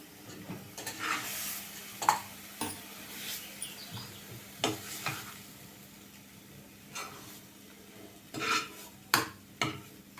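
Onion chutney sautéing in oil in a pan, a low steady sizzle under repeated spoon-on-metal stirring scrapes and clinks at an irregular pace, close and fairly quiet, no talking.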